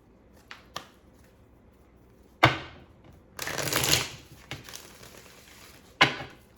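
Tarot cards shuffled and drawn by hand for a reading: a few soft snaps and taps, then a crisp riffle burst, a longer papery shuffle, and another sharp card snap near the end, close and fairly quiet.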